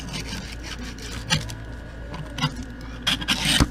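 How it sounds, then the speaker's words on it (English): A big knife scrapes across the back of a packed sand casting mold in short, rough rasping strokes with gritty bursts, heard close with no talking. "take this and just scrape it across the back here"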